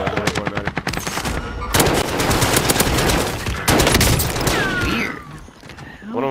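Loud video-game gunfire, a rapid string of close shots at the start followed by two heavy, sustained blasts with a brief gap between them, ending in softer trailing effects.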